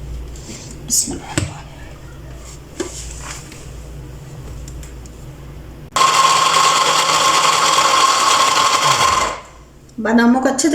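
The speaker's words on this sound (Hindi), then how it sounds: "उसमें सारे बादामों को डाल के तो उनका पेस्ट बना लेंगे। साथ थोड़ा सा पानी भी डाल देंगे ताकि हमारी मशीन आसानी से चल सके।" A grinder machine blends almonds and a little water into a paste. A loud, steady whirring roar starts abruptly after some clinking and handling sounds, runs for about three seconds, and then winds down.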